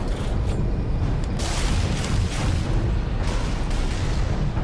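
A grenade explosion in the shooter Halo 3 sends out a loud, sustained rumbling blast, with dense low-end roar and debris noise continuing throughout.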